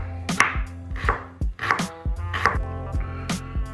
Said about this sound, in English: I'm just going to slice them up.